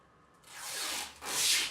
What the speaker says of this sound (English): all this foil makes me shiver with anticipation.